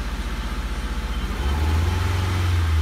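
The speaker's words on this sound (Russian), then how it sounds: "Машина троит. Работает неравномерно." An Audi A4 B5 with a 1.8 ADR petrol injection engine and five-speed gearbox idles roughly and misfires, its low, steady drone pulsing unevenly up close, then deepening into a heavier, constant hum.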